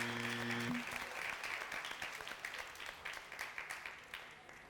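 Studio audience applauding on a Ramazan debate show, a dense wash of clapping that swells briefly after a short musical sting at the start, then thins into scattered, individual claps fading toward the end.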